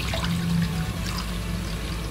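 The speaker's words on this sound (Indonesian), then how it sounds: "Jadi ini adalah air kunyit sahabatku." Turmeric water is poured into a pot to dye homemade tofu yellow, giving a steady, continuous splashing and trickling stream at close range with no voices.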